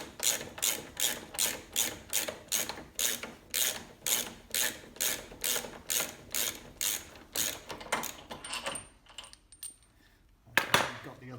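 A ratchet clicks away undoing 17mm bolts on a Lancia Delta Integrale, a brisk, regular train of close mechanical ratcheting strokes that slows and stops near the end, followed by one last short burst.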